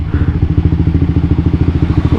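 Suzuki GSX-R150 motorcycle idling with a steady, rapid thumping engine pulse while a gear is forced in with difficulty; loud and close, with no talking.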